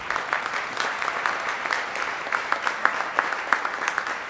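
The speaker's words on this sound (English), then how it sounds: "Let's first give them a round of applause." An audience at a neighbourhood partnership annual dinner claps for a group of award winners. The applause is steady and moderate, with scattered sharper claps standing out from the mass, and there is no talking.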